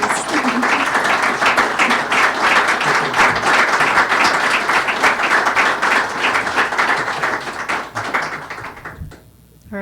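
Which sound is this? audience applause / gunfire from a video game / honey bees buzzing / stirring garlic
audience applause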